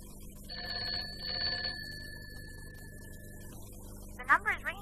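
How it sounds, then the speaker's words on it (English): A telephone ringing down a line from a 1951-era exchange, two long steady ring tones in quick succession, then a long held tone that cuts off, with a brief fluttering noise near the end. "The number is ringing, all right."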